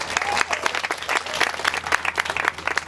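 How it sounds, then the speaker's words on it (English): Applause at a mayoral campaign event for a harbor commissioner, with distinct individual claps standing out from a moderately sized crowd in an uneven, choppy rhythm, fairly close and loud, and some murmured voices underneath. "Let's give him a round of applause, please."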